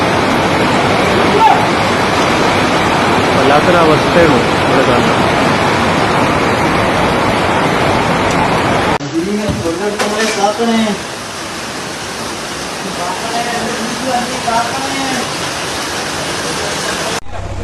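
A roaring rush of a flooded river after a major landslide at Chooralmala fills the scene, loud and constant, with someone speaking over it; the roar continues a little softer later.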